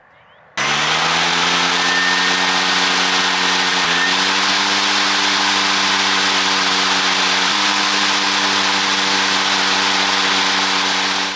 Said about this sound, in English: To give you an idea how loud the mower is, I'm going to let you hear it in all 3 blade speeds.